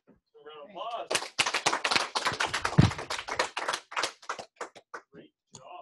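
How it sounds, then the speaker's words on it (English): Applause from a small training audience at a sales presentation, several seconds of close, brisk clapping with voices and a whistle-like call at the start. "Round of applause."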